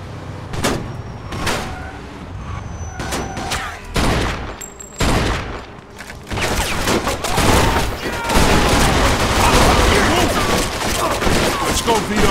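Gunfire in Mafia 2 gameplay, sharp loud shots at first spaced apart, then building into dense, continuous bursts of overlapping fire with clanks and impacts, close and forceful.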